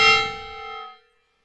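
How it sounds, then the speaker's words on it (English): A single loud soundboard gong strike rings out with a bright metallic shimmer, sustaining for about a second before fading to silence. "that is the gong"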